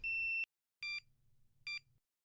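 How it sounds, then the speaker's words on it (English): Electronic beeps from a BC400 pressure mat monitor: one longer tone followed by two shorter beeps, clean and isolated against near silence. "The monitor will sound a long beep, and the LCD screen will display Mat Synced."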